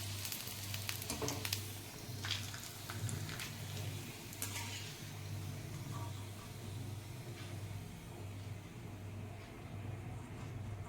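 Nachni (finger millet) papad frying in hot oil makes a steady, fairly quiet sizzle with faint bubbling crackle and a few scraping stirs early on, with no talking.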